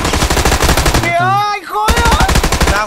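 Rapid machine gun fire in PUBG, loud and close, rattling in steady bursts that break briefly for a rising synthetic tone before the rapid shots resume.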